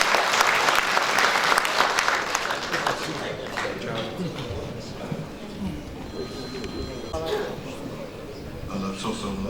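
Audience applause at an 80th-birthday charity tribute event, a dense burst of clapping strongest at the start that thins and fades over several seconds, with a voice and other room sounds mixed in as it dies down.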